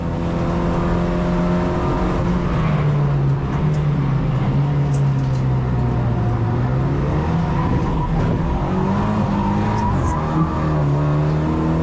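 Loud, steady engine of a Lynk & Co 03+ droning at race pace on a racetrack, its pitch wavering and dipping with slight uneven stutters from a misfire, no voices over it.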